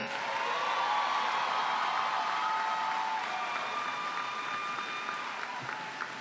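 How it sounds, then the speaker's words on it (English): An audience claps at a high school commencement for the class of 2019, a moderate, continuous round of applause lasting several seconds, with faint tonal ringing from the hall mixed in. "Please give them another big, huge round of applause."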